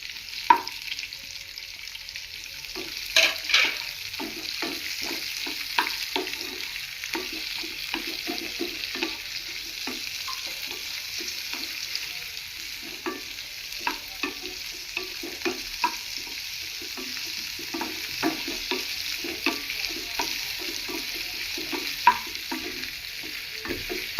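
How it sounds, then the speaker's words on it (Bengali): Green chili and onion stir-fry in a pan for dry chilli chicken, with a constant mid-level sizzle broken by many quick, rhythmic spatula scrapes and taps throughout, no talking. "কাঁচা লঙ্কা দিয়ে দিলাম, পেঁয়াজ দিয়ে দিলাম"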